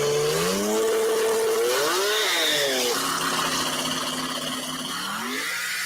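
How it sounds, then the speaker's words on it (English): A twin-turbo 2JZ-engined race car revs hard, its pitch sweeping up and down several times before settling into a loud, sustained drone that stays strong throughout. "I love the sound of those damn 2JZs though."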